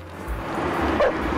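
Cartoon dog in Family Guy giving a short bark and yip near a parking meter outside a bar, a single brief vocalization over faint street ambience.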